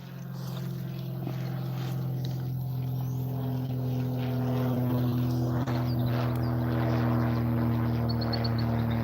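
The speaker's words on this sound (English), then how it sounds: "Now that plane's pretty low." A small propeller plane flies low near a private grass-field airport, its steady droning hum growing slightly louder and continuing throughout over outdoor background noise.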